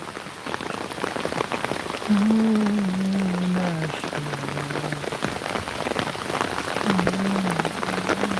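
Rain pours steadily near the Chiknai river in a village, a dense, close patter of drops on surfaces with a few low droning tones drifting over it and no speech.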